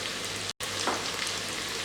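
Onions fry in a pan in an electric cooker, a steady dense sizzle with crackling spits holding even throughout, briefly cut to silence for an instant.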